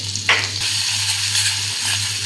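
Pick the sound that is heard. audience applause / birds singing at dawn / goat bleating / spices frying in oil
spices frying in oil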